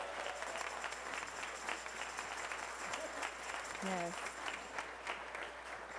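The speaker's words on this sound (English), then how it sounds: "we need to give a huge round of applause for those folks" A concert audience at an Emeritus benefit concert claps steadily, a dense even wash of applause, with a voice briefly speaking over it.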